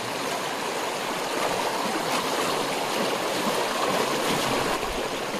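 A clear stream flows over stones, producing a steady, loud, broadband rushing and gurgling of water that continues without a break.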